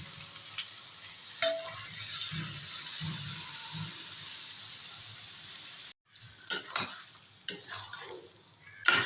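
Cabbage sautéing in a pan with a steady sizzle and occasional stirring, close by; near the end water is poured in, bringing abrupt clatters and a hissing surge.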